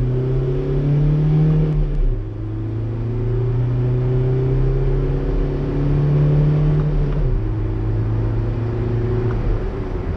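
A Volkswagen vehicle's engine accelerates from inside the cab, its drone climbing in pitch, dropping at a gear change around two seconds, then climbing again and shifting once more, steady and close without talk.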